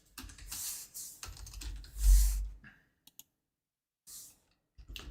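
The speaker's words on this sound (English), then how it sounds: "I'll show you guys officially what I'm typing here." Bursts of clicking computer-keyboard keystrokes during a futures trading session, arriving in short clustered runs with brief pauses, fairly close and moderately loud, no talking.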